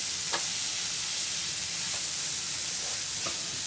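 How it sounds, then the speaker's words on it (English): Onions soften over low heat in a pan for masala dosa, with a steady, even hiss of gentle frying, quiet and close, and a few faint clicks of stirring. "we just want to soften these onions up"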